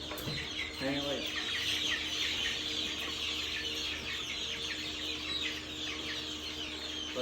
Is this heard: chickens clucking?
yes